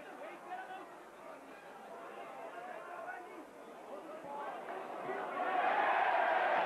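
A home rugby crowd at Neath against New Zealand in 1989 cheers a referee's decision, broad crowd noise swelling louder toward the end, with a commentator talking over it.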